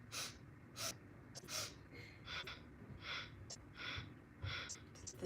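Breath is drawn in quick, short sniffs through the nose in groups of about four, followed by sniffing exhalations, as in kundalini yoga breathing. The sound is soft and close, with no talking.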